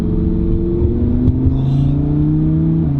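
A Lamborghini V10 engine revs and hums steadily at close range, its pitch rising and falling slightly with a brief sharp tick partway through.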